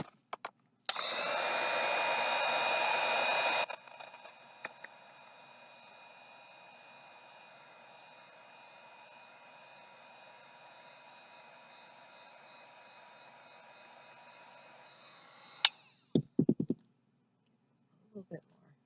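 A hair dryer blows at full power for a few seconds, then keeps running at a quieter, steady whine for more than ten seconds before cutting off, followed by a few soft knocks and handling noises.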